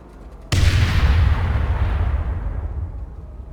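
A grenade detonates during a training exercise with a sudden loud boom, followed by a heavy rumbling roar that slowly fades over several seconds.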